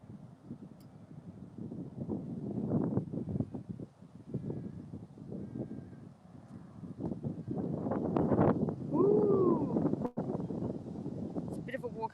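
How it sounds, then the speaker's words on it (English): Wind blows steadily across a steep hill on a sunny day, a continuous low rumbling rush with gusty swells, buffeting the microphone and rising toward the end. "Wind."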